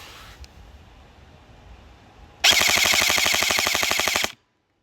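An airsoft rifle firing 0.2 gram BBs on a sustained rapid burst of about two seconds, a loud, dense mechanical rattle of evenly spaced shots after a quiet lead-in, then a sudden stop.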